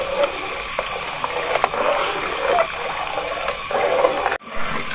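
A spoon scrapes and stirs homemade vegetable soup in a cooking pot on a stove, giving a steady close bubbling and clinking wash with a brief knock near the end.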